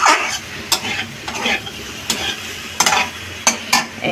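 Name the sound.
spice paste being stirred and fried in oil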